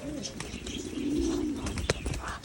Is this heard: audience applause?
no